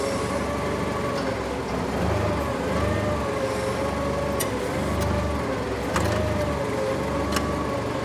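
A Nissan C6000 propane (LP) forklift rated at 6,000 lb idles steadily, its engine drone continuous and fairly close, with a few faint clicks and rattles on top and no talking.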